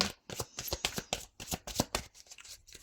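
Oracle cards being shuffled by hand in a rapid run of crisp riffling bursts, about a dozen quick slaps close up with short gaps between them and no talk over them.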